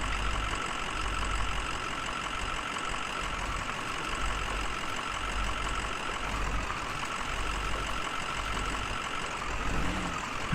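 A truck engine idles in the Spintires: Mudrunner off-road video game, a steady, loud low rumble with a constant mechanical drone that holds unchanged for the whole stretch, with no voices.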